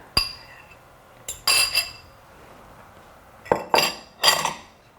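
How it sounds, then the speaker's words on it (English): Muffin batter for keto chocolate chip muffins being mixed with a wooden spoon or spatula, heard as several sharp knocks and clinks against the bowl in two bursts with quiet gaps between, close and soft. "And then continue mixing that up with your wooden spoon or your spatula."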